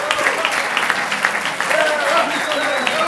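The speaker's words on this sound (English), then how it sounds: "let's give her a big round of applause" Wedding guests applaud after a speech at a reception, a continuous wash of clapping with cheering voices mixed in throughout.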